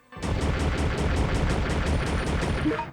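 Rapid, evenly spaced gunshots from the video game Resident Evil Survivor, about a dozen sharp cracks fired in quick succession at close range with no talking.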